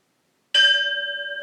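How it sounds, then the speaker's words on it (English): A bell struck once during a post-workout yoga stretch session, ringing out clearly and leaving a long, steady, shimmering tone that slowly fades. "at the bell, we're going to carefully roll on to the other side"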